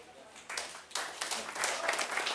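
An audience at a live seminar breaks into steady, crowded applause that swells and continues, with a speaker's voice over it.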